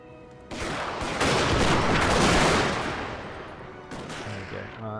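Musket volley fire from Prussian infantry in Napoleon Total War, a dense crackling fusillade of many shots rolling together into a loud sustained roar that swells then tapers, with distant booms after.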